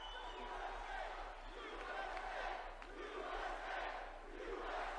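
Large rally crowd cheering and shouting for Donald Trump, a sustained roar of voices rising and falling at a distance, heard under nearby talk.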